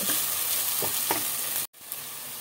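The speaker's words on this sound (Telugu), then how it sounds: "ఇప్పుడు మసాలా కూడా మనకు చక్కగా వేగాలి." Masala fries in a pan for a chicken and mango curry, a close, dense sizzle with a few soft stirring scrapes and a brief break near the end.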